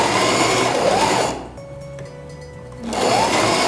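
A sewing machine stitches the flaps of a reusable cloth diaper, whirring loudly in bursts at the start and end with a quieter pause between, and no talking.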